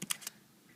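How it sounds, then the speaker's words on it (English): Three quick, quiet keystrokes tap out on a Crux Skunk iPad keyboard case, then a faint hush follows. "I can just start typing right away"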